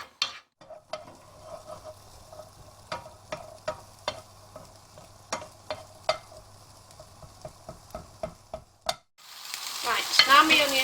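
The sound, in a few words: onions frying in a pan until brown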